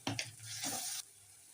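Vegetables for spring onion Maggi are stirred in a hot pan, giving a short close burst of scraping and sizzling that stops abruptly after about a second, followed by quiet.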